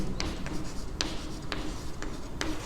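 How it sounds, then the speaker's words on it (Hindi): Chalk or marker writes on a board during a maths lesson on shares and dividends, with scratchy strokes and several sharp taps marking letters at a fairly regular pace, close and unaccompanied by speech. "तो मैं लिखता हूँ यहाँ पे पहले"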